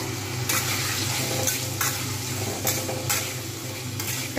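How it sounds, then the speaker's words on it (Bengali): Potatoes fry in a pan with salt and turmeric, with spring onion stalks for a methi greens dish, as a steady sizzle under regular spatula scrapes and stirring strokes roughly every second, close and without speech. "আর একটু সুন্দর করে ভেজে নেবো"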